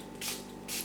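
Two quick hissing squirts from a spray bottle of hydrogen peroxide misting a repotted Oncidium orchid and its potting media, close and fairly soft.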